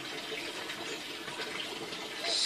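Water flows steadily through the pipes of an aquaponics grow bed, a soft continuous rushing that swells slightly toward the end, with no talk.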